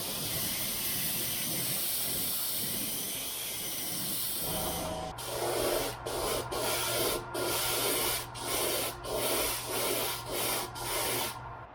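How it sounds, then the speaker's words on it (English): An airbrush sprays candy paint onto a walking bait fishing lure, a steady hiss that shifts partway through into a rhythmic series of short, evenly spaced bursts as the spray passes over a comb for stripes. "I'm going to spray the candy over the comb and give it some stripes."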